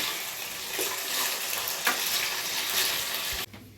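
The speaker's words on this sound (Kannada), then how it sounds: "ಚೆನ್ನಾಗಿ ಫ್ರೈ ಆಗ್ಬೇಕು" Potato pieces fry in a pan, a dense steady sizzle close up with a couple of spatula scrapes before it cuts off abruptly near the end.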